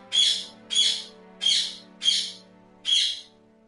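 Birdsong in the video game Genshin Impact: five bright, clear chirps in an even rhythm, each a short rising-and-fading call, with a faint low hum underneath.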